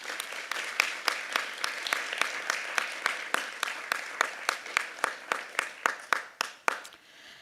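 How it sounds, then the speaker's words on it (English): A small group claps for award winners at a university teaching awards event, steady rhythmic clapping in even, separate beats close by that slows slightly and stops. "It's very loud clapping, Attila."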